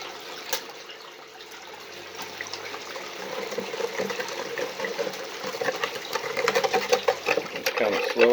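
A small machine processing sticky, concrete-like clay for gold: a steady wet, sloshing churn like running water over a low motor hum, growing slightly louder and busier toward the end.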